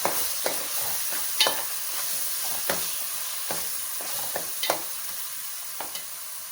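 A spice paste for Andhra-style fish curry fries in a pan with a low, steady sizzle, broken by sharp scrapes and taps of a spoon stirring at intervals; no voices.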